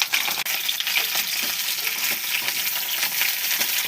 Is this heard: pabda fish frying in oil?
yes